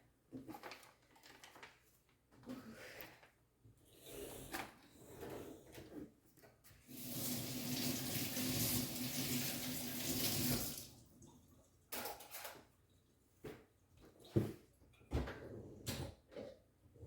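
Tap water pours steadily into a cooking pot holding frozen ground cassava leaves, a loud continuous gush lasting a few seconds, framed by quieter kitchen clatter and handling noises before and after.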